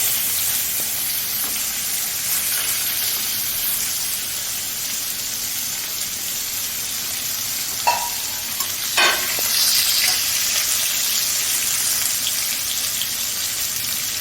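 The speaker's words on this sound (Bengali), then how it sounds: "ফোড়ন দিয়ে এবার উচ্ছেটা আমি এর মধ্যে দিয়ে দেবো।" Steady sizzle of hot oil in a pan as bay leaf and radhuni are tempered and bitter gourd is fried, a broad, even hiss with a few brief clinks and stirring sounds, close and alone with no voices.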